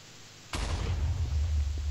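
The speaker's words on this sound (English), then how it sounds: "I'm just gonna launch off all my fireworks." A firework launching in the Minecraft Block Hunt game, a sudden loud whoosh-burst that starts abruptly and carries on as a rumbling, sustained hiss to the end.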